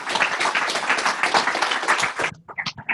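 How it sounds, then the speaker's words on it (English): Audience applause after a panel discussion at a startup event, with dense, lively clapping that cuts off abruptly near the end, followed by a few scattered voices. "A round of applause."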